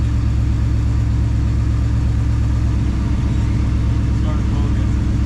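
A 1966 Ford Fairlane's Z-code 390 FE V8 with a 4-speed idles loudly and steadily up close, a constant low throbbing rumble filling the whole stretch without pause.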